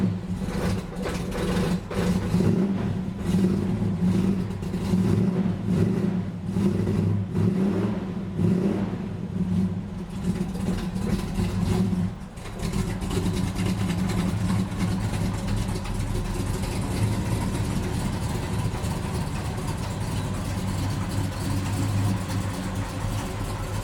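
A 1966 car engine being moved out of a garage revs in uneven bursts, then settles into a steady, rumbling idle, heard close and alone.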